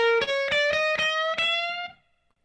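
A short electric guitar blues lick, a bent note sliding upward with quick picked strokes catching the flat fifth blue note, then fading out after about two seconds.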